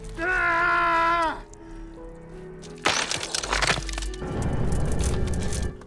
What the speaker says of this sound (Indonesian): atap mobilnya yang sebagian terbuat dari kaca mulai menunjukkan retakan akibat tekanan tanah dari atas